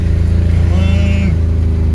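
BMW E36 engine held at a steady high rev while the car drifts, a loud continuous droning engine note lasting throughout, with a voice briefly talking over it.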